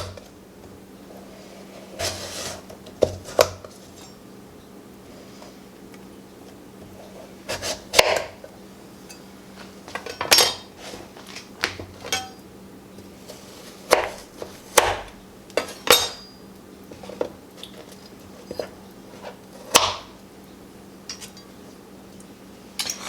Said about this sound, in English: You want it the other way, and then cut 1-inch slices.